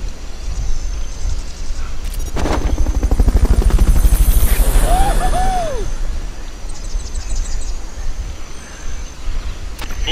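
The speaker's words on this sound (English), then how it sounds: "Fulton recovery subject confirmed onboard helicopter." A helicopter in the game Metal Gear Solid Peace Walker holds a loud, steady rotor chop through ten seconds, swelling in the middle, with a rising whoosh and short electronic chirps layered on top.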